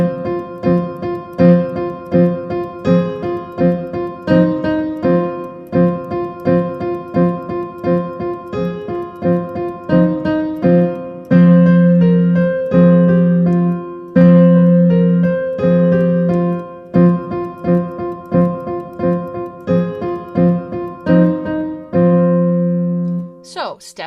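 A piano plays a simple drum-song exercise, the left hand holding an open fifth under a repeating right-hand pattern. The notes are struck in a steady, even rhythm, loud and close, with no talking over them.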